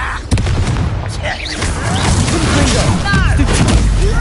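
Confringo fire spell explosions in the Hogwarts Legacy video game, a few heavy booms and crackling blasts over a dense battle din, with a voice calling out spells and other speech throughout.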